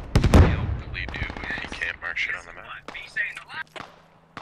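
Gunfire in the video game Squad sounds in the Fallujah setting, with a sharp shot at the start followed by quick bursts and scattered pops, while voices talk over the action.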